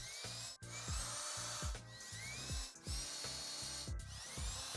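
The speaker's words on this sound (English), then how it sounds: "Lovely drill noises." A power drill drives screws straight into white wood trim while sliding panel blinds are mounted. It gives repeated close whirring bursts that rise in pitch, each cut off by short pauses, with no talking.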